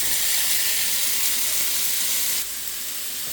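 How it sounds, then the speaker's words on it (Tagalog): Tomatoes frying in a hot pan while mung bean stew is cooked, a loud, dense and steady sizzle heard up close, easing slightly partway through, with no talk. "Lagay ko na yung kamatis guys."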